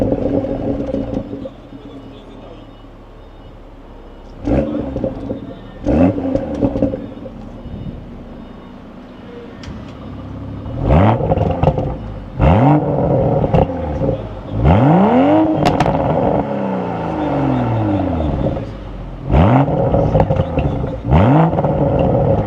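A BMW Supra Mk5 with a newly fitted downpipe revs hard on a dyno, its engine note sweeping up and down in repeated loud pulls with clattery rumble between them, and no talking.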